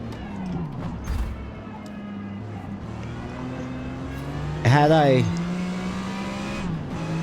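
A Jaguar XJR-5 race car engine drones in the Forza Motorsport video game at Daytona, a steady tonal engine note shifting pitch as it revs, with a brief screeching tire squeal midway and someone talking over it.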